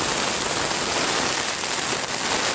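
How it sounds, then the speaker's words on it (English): Steady wind and rain outdoors, a dense, loud broadband hiss of rain on surfaces with gusting wind, continuous throughout with no talk. "You got some good wind going, some good rain"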